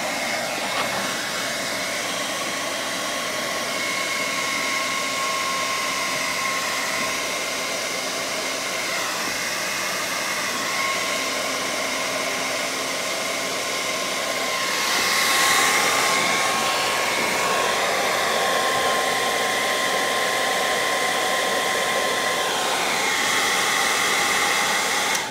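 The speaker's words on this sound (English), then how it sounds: "So it says to use a blow dryer, so that's what we're gonna do, and it warms the plastic up." A blow dryer runs steadily and loudly throughout, a continuous rushing whir with slight pitch wavers as it is aimed at plastic buggy straps to warm and soften them; no voices.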